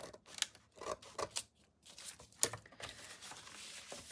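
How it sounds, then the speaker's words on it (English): Scissors snip repeatedly through paper, trimming away bulky excess in a run of short, close, crisp cuts with slight crinkling between them, quiet and without talk. "I'm going to just cut some of that bulk off there"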